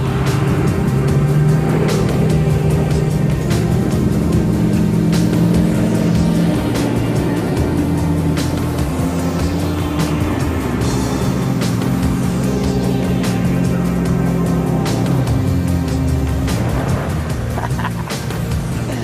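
A luxury car owned by Sheikh Hamad labours uphill in a big hall called Oldsmobile, its engine droning steadily and shifting pitch as it revs hard, loud and continuous throughout with no talk.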